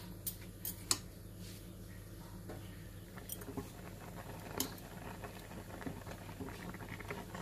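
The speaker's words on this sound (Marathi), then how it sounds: "पाण्यात एक मिनिट फक्त बॉईल करून घ्यायचे." Ridge gourd pieces boiling in a pot of hot water on a stove, a soft steady bubbling and patter with occasional small ticks and pops, fairly quiet and close, with no talking.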